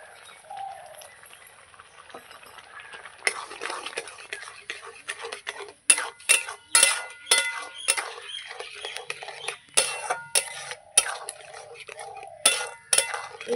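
A spoon stirring rice pudding (payesh) with sugar in a pot: after a quiet start, rapid clinking and scraping strokes against the pot, close and fairly loud, continuing in bursts.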